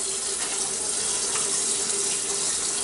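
Tap water runs steadily into a measuring cup in a kitchen, a close, continuous hissing gush that holds at an even level throughout, with no talking.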